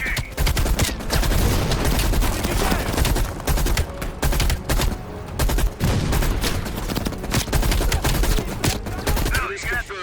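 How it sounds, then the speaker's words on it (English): Enemy machine gun fire in the Call of Duty: Black Ops Cold War video game: dense, loud, continuous bursts of rapid gunfire that fill the whole stretch with no break, heard amid the chaos of battle. "Bill, you got to flank that MG!"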